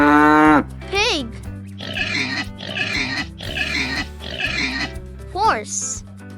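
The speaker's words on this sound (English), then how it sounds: "Pig." Pig oinking in an animal-sounds lesson for toddlers: a series of rhythmic snorting grunts repeated several times at close range over a bright, cheerful music bed, with a short spoken word at the start.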